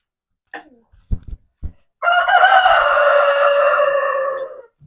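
Roosters perched on a wire: a few short clucks and soft calls, then one loud, close, drawn-out crow lasting over two seconds before fading to quiet.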